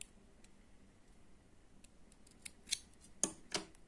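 Scissors snip embroidery thread at its base during Turkish needle lace (iğne oyası) work, giving a few quiet, crisp cuts clustered near the end after a near-silent pause.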